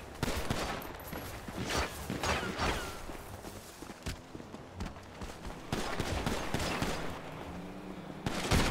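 Repeated gunshots during a GTA 5 roleplay police getaway, a busy stretch of sharp bursts spread irregularly through the scene over constant game noise, with no talk.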